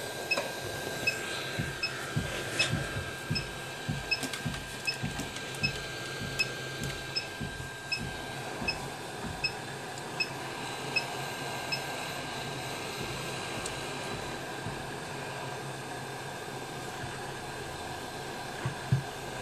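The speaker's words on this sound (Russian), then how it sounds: "Включаю фен." A hair dryer blows hot air to heat the display module of an Apple iPod touch model 1421 for removal, giving a steady close whooshing hiss with faint regular ticks throughout.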